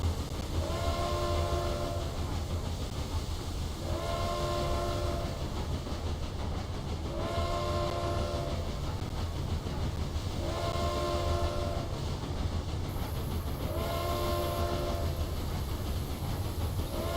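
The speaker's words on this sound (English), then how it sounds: "That's a train leaving from Paris too." A train in the video game Railway Empire 2 runs steadily with a continuous loud rumble, while its horn sounds in five evenly spaced, harmonic blasts about every three seconds.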